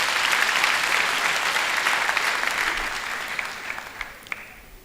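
A graduation ceremony audience applauds in a large hall, with dense sustained clapping that slowly thins and fades toward the end, leaving a few scattered claps.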